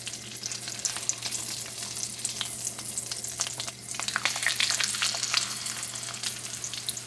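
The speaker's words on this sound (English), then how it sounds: "I have the chicken frying in the pan with butter and olive oil" Flour-dredged chicken thighs fry in a pan of butter and olive oil, a steady close crackling sizzle with dense spitting pops throughout and no voices.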